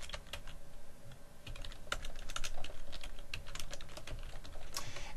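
Someone types a name on a computer keyboard, with steady, close, moderately quiet key clicks in an irregular rhythm over faint background hiss.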